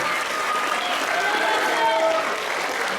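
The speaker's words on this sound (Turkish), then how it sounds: "Alkış alıyoruz kendisine." A crowd at a school awards ceremony commemorating the national anthem applauds a first-place painting winner, a steady, dense wash of clapping filling the room, with a few voices mixed in.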